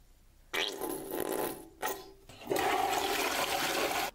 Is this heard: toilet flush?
yes